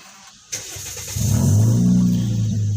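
A 2006 Toyota Yaris with a push-start remote cranks over briefly and catches, then settles into a steady, close idle hum with no talking.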